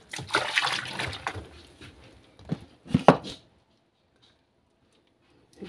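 A washing machine draining soapy water gives a close splashing, sloshing rush that fades, then two short splashes before it goes quiet.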